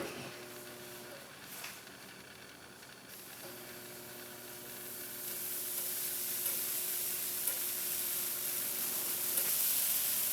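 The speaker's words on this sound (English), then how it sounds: "let's go ahead and put some on the griddle and hear that satisfying sizzle" Whole wheat buttermilk pancake batter hitting a hot griddle and sizzling, the hiss growing louder and brighter partway through and holding steady to the end.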